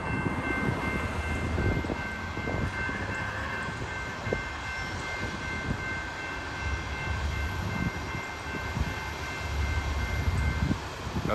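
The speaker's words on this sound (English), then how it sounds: "Here comes the train." Long fast freight train with four locomotives, two leading and two distributed-power units, rolling past with boxcars, a steady loud broadband rumble and rail roar throughout, no voices.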